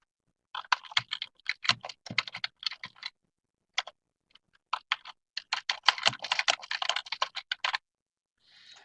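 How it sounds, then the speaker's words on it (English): Keys clatter on a computer keyboard as a subject line and message are entered, close and fairly loud in quick irregular bursts with brief pauses, ending with a faint different noise. "So I type in the subject of my team mail, and I type in whatever the message is that I want to convey."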